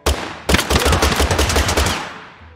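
Automatic gunfire in the video game Totally Accurate Battle Simulator, a loud rapid burst of repeated shots after a single opening crack, firing steadily for about two seconds before tapering off.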